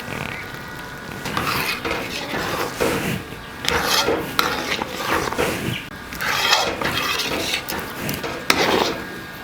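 Wheat halwa with roasted cashews being stirred in a kadai, a steady rasping scrape of the ladle against the pan in repeated strokes over a soft sizzle, close and fairly loud with no talking.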